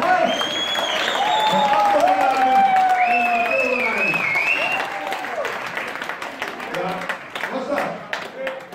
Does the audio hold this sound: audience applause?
yes